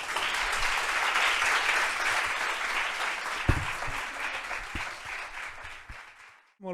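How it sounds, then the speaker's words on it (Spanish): Audience applause at a talk introducing a functional-diversity activist: dense, steady clapping from a large crowd for about six seconds, then cutting off abruptly near the end. "Un fuerte aplauso."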